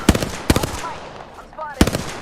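Three loud, close bursts of rapid automatic gunfire ring out in a video game, spaced apart, with brief tonal game effects between them.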